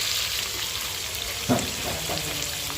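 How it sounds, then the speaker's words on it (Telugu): Food frying in oil under a lid gives a steady, muffled sizzle throughout, with a single soft knock partway through, no talk. "ఆయిల్ అయితే వేసుకొని మొత్తం అయితే ఫ్రై చేసేసుకోవాలి మూత పెట్టేసుకున్నాం"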